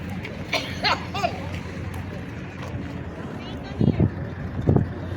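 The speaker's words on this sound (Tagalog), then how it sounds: "Malakas ang hangin guys. Malakas ang hangin." Strong wind buffets the microphone at an outdoor roadside spot while waiting for a bus, with a continuous low rumble, a few louder gusts toward the end, and voices talking faintly in the background.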